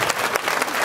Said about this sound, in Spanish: vamos a darles a ellos un fuerte aplauso